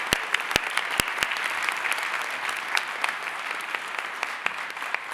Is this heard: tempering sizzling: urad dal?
no